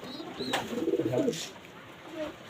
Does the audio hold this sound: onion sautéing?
no